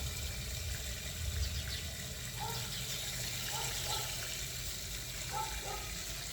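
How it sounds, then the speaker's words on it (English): Water flowing steadily into a wicking garden bed being filled, a continuous soft gush with faint gurgles, close and fairly even throughout with no voices. "The water's going in fine."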